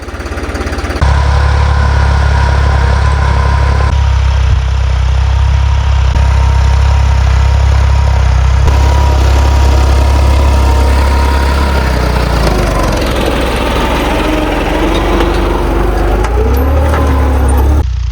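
A New Holland 3630 4x4 tractor engine runs under full load while sowing chickpeas, a loud, steady diesel drone with low rumble throughout and a brief rise in pitch near the end.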